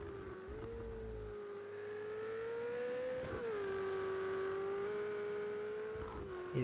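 A 1972 Ferrari race car engine in Project CARS 2 drones steadily at high revs during a race in Dubai, its pitch rising and easing slightly as it shifts, sustained and fairly close throughout.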